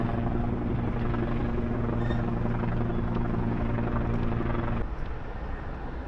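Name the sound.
helicopter hovering overhead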